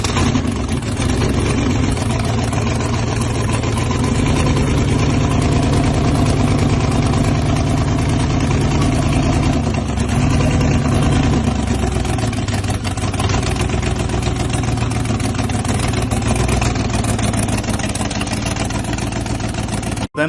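A truck engine runs steadily and loudly, a deep rumbling idle with a slight change in pitch partway through, continuing for the whole stretch.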